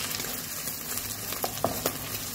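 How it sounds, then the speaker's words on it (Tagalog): Garlic, ginger, onion and shredded lechon sauté in a hot pan, giving a steady oily sizzle. A few louder stirring scrapes and pops rise above it, and no voices are heard. "Gisahin natin ang bawang at luya. Sibuyas. Ilagay na natin ang hinimay na lechon."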